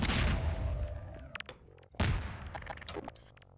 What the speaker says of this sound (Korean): 폭탄까지 터뜨려 볼게요.